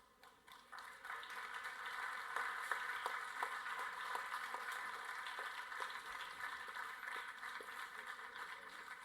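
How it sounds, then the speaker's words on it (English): An audience applauds at an inauguration event with dense, steady clapping. It swells quickly at the start and then holds at an even, fairly faint level, heard from a distance. "I thank the audience for the so many applauds."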